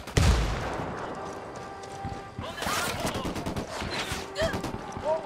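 Rifle fire in the Ghost Recon video game cracks out in sharp bursts after an opening shot, mixed with game effects and brief radio-style voices.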